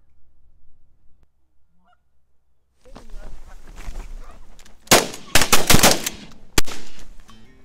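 Goose hunt over a freshly chopped corn field: geese honk steadily in the distance, then a rapid volley of loud, close shotgun blasts erupts in several bursts, with a final lone shot afterward.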